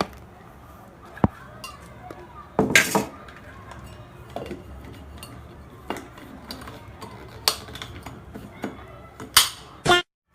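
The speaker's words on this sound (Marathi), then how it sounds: "आता बाकी काय नाही, फक्त काय झाकण लावायचा." A metal lid is set onto a cooking pot in a home kitchen, giving a few sharp clinks and clatters of metal on metal, loud and close, with quiet gaps of room noise between them.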